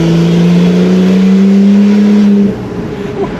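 Turbocharged VL car engine revving hard with a steady, loud tone that holds for about two and a half seconds, then drops off as the revs ease.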